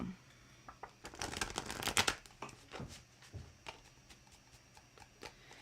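Tarot cards shuffled by hand at a reading, a run of soft riffling and slapping bursts that builds to a dense flurry near the middle, then scattered lighter card taps.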